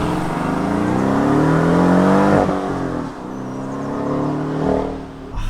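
The engine of a 2024 Porsche 718 Cayman Style Edition with a manual gearbox, driven in its most aggressive mode, revs hard through one gear, drops briefly at a shift, then climbs again. The rising tone is loud and close, heard from inside the car.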